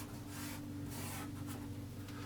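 An eraser rubbing out a lightly drawn pencil plumb line on paper, several brisk back-and-forth scrubbing strokes, close and fairly soft, alone without talk.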